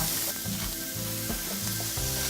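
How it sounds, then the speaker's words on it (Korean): Onions stir-fried over high heat in a pan, a steady loud sizzle with rhythmic scraping strokes of the stirring utensil, close up and with no talking. "양파 먼저 볶아요."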